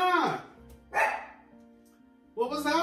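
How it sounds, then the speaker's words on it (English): Dog barking close by indoors, three sharp barks spread across a few seconds with a high whine-like edge to each. "What was that bark?"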